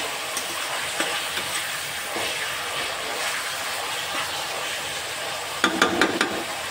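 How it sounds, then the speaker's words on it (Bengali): Chopped vegetables fry in white oil for chowmein, a continuous close sizzle with occasional stir scrapes, and a sharper burst of clatter near the end. "এই যে আনাজগুলো ভাজছি, দেখো ভালো করেই ভাজছি"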